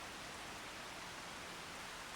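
Rain falls in Farming Simulator 25 as a steady, faint, even hiss that runs unbroken throughout, with no talk.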